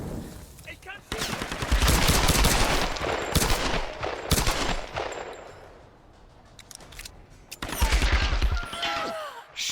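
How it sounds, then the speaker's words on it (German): Gunfire in a Tomb Raider game session: two loud bursts of rapid automatic fire, each lasting a few seconds, separated by a quieter stretch, close and dominant, with a little voice in between. "Ich kann schießen!"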